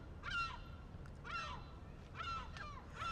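Seagulls call overhead near a flying drone in London, four separate squawking cries spaced about a second apart over a low steady hum.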